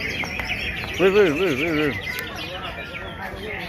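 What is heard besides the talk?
cucak ijo (green leafbird) singing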